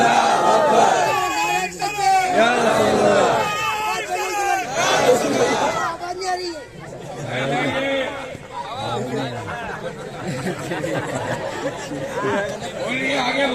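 A large crowd at a Milad gathering chants the Nara-e-Takbir slogan, with loud massed voices surging in rhythmic bursts over a constant background of crowd noise.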